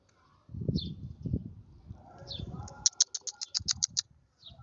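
Small birds chirp outdoors in hot sun, a run of about ten quick, bright tweets in a row plus a few isolated calls, over low rustling and handling noise nearby.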